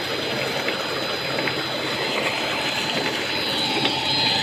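Electric water pump motor fitted on a second borewell, drawing water to irrigate a wheat field, a steady loud whine mixed with rushing, splashing water, continuous and close throughout with no talking.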